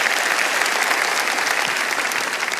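A church congregation at a Spanish-language Wednesday service claps in a dense, steady burst of applause that stays loud and even throughout.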